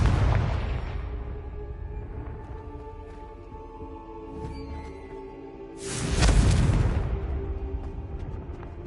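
In the Hogwarts Legacy game on PS5, the Confringo explosive spell erupts in a loud, close burst at the start, and a second booming blast hits near the six-second mark over a low, rumbling background.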